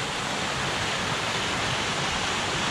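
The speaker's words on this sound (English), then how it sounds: "This one is called Narada Falls." Narada Falls, a 168-foot waterfall at Mt. Rainier National Park in snowy spring conditions, roars as a steady, dense broadband rush of falling water, loud and continuous with no voices.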